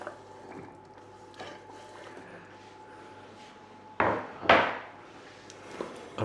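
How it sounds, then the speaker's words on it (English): Cut potato pieces are tipped into a pot with two quick, close clattering thuds after a quiet stretch of faint kitchen hum and small handling noises. "And now we just want to get this potato into the pot."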